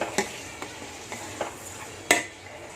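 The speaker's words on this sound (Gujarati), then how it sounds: "આ રીતના હલાવતું જવાનું છે જ્યાં સુધી ઘટ થઈ જાય થોડુંક એવું, ત્યાં સુધી આપણે એને ગરમ કરવાનું છે." A spoon stirs milk heating in a pan for fruit custard, giving light, irregular taps and scrapes against the metal, with one sharper clink, over a faint low sizzle.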